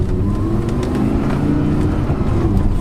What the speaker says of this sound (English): for a drive in the R-Tronic Audi R8 V10